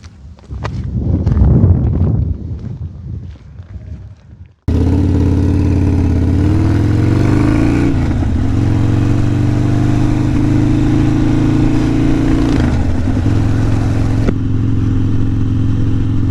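A Harley-Davidson Sportster 48 engine starting abruptly after some handling noise, then a loud, steady close-up rumble as the motorcycle pulls away and rides, with gear changes audible as pitch shifts.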